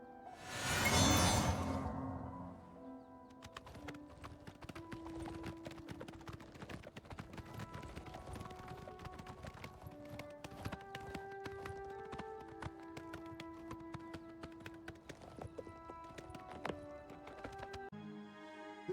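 Hooves clip-clopping from a horse in a fantasy role-playing video game, a quick repeated galloping patter after a loud whooshing spell burst at the start, with bright magical tones ringing over it.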